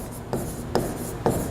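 Chalk or marker scratching across a board during a physics lesson, three distinct short strokes spaced about half a second apart, close and clear with no talking.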